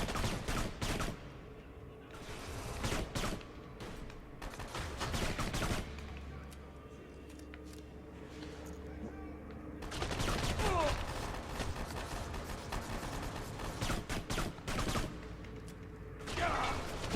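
Rapid bursts of gunfire from the video game Kane & Lynch 2 demo, with rattling automatic volleys and single shots in clustered firefights, a quieter lull in the middle, then heavy shooting again.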